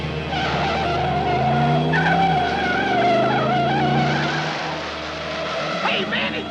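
A van pulls away hard with screeching, skidding tires and a revving engine, loud and close, while people shout over the noise.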